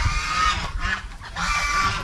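Loud, close honking calls from a group of ducks, repeated in bursts over a brief stretch with no other sounds.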